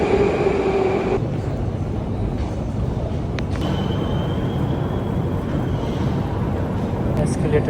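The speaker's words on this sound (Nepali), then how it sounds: "पुरै अन्डरग्राउन्ड मेट्रो हो।" An underground metro station in Russia: a steady, loud rumble of a train running through the tunnel, with brief tonal whines and clanks over it, close and continuous.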